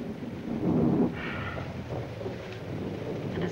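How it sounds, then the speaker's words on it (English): Steady rain with a low rumble of thunder swelling early on, heavy and close, then settling back into a continuous wash of rainfall. "And it's still raining."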